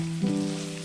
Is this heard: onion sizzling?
yes